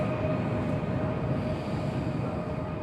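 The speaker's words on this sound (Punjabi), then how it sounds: "ਆ ਗਈ ਆ ਬੁਲਟ ਟ੍ਰੇਨ ਜਾਊ ਬਖਾਰੇ ਨੂੰ" Steady low rumble of a high-speed train arriving at a station in Samarkand, Uzbekistan, with a faint constant hum, continuous and fairly loud throughout, no voices.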